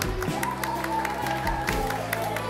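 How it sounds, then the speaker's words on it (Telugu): An audience applauds at a Sunday school Nativity programme at CSI St. Paul's Church, a steady mid-level clapping that carries under a continuous hum and some faint tonal sound for a few seconds. "చప్పట్లు కొడదాం గట్టిగా మరి."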